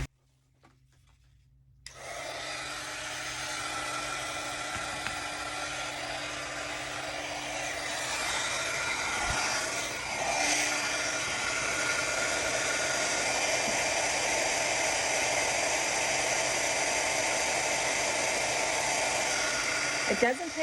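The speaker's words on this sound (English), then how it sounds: "it's going to get loud when I turn on this embossing gun" Embossing heat gun switching on after a brief quiet moment, then blowing a loud, steady hissing rush of air that continues unbroken for the rest of the clip.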